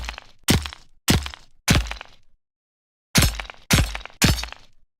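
A video game hurt sound effect for spike damage, heard with its spike damage layer removed: seven sharp, loud impact hits, four evenly spaced, then a pause and three more.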